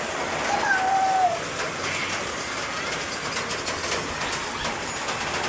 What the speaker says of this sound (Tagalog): Biglang buhos ng ulan.